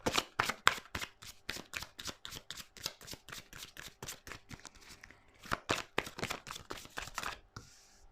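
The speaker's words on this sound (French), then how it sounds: "Veuillez vous faire sauter les cartes." Tarot cards shuffled by hand in quick riffling bursts, crisp papery snaps repeating rapidly and close, with a brief pause midway before the shuffling picks up again, no voices.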